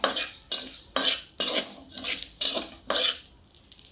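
Mustard and cumin seeds roasting in a pan, stirred with a metal spoon in regular sharp scrapes about twice a second, close and distinct with light sizzling between strokes.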